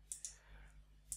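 Two quick mouse clicks, then a third a second later, sound faint and close in a quiet room while OK is selected in Flowcode software on a computer.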